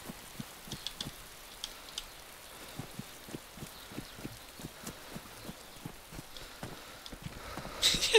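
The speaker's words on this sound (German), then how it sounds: "Jetzt hört es gleich bestimmt auf zu regnen." Steady rain hisses through a DayZ game scene, with a regular, even series of soft footstep-like thumps running beneath it and a brief louder rustle at the end.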